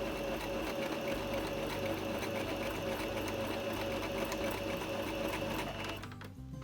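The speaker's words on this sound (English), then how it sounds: "now let's go to the sewing machine." A sewing machine runs continuously at a steady, rapid mechanical whir while shirring elastic into fabric, close and loud, then stops near the end.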